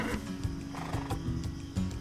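A horse in the online role-playing game Black Desert Online snorts and whinnies amid soft hoof clatter, close and moderately loud, in short irregular bursts over game ambience.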